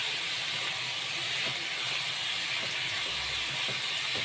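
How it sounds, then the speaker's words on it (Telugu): Washed cabbage frying in hot oil in a pan, giving a steady, loud sizzling hiss that runs unbroken throughout, with faint crackles and no voices. "ఫ్రై అవుతుంది ఫ్రెండ్స్."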